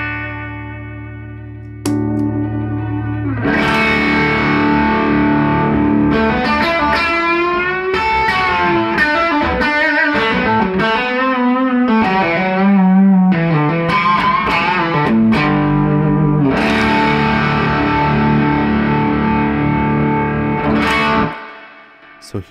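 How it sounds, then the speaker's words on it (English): A Fender Stratocaster electric guitar through a Wilson Effects Sparkling Blue Overdrive pedal into a 1974 Fender Princeton Reverb amp plays a distorted, overdriven melody with chords and single notes, loud and sustained, with a low hum before it starts. "Now I'm just playing a Strat."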